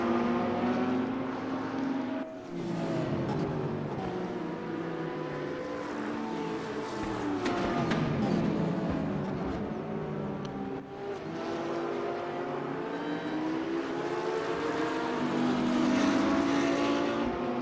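Bentley and Porsche race cars climbing the hill at Mount Panorama, engines roaring loudly and continuously with pitch rising and falling through gear changes as they pass.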